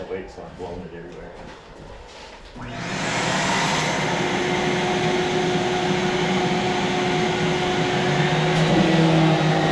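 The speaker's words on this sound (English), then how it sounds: "Choose the vacuum instead with this much," A vacuum cleaner starts up partway through and runs as a loud, steady whir on a building job for a train depot side gate, following quieter background talk and handling noise.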